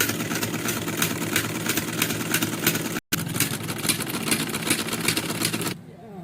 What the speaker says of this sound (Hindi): चुनट डालने के लिए मैं सिलाई लगा रही हूँ